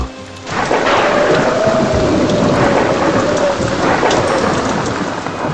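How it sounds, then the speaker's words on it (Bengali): Heavy rain pours steadily outside a window during a horror story, with rolling thunder rumbling loudly underneath from the first half-second onward, a dense, continuous storm with no voices. "জানলা দিয়ে বাইরে থেকে মারাত্মক বৃষ্টির আওয়াজ"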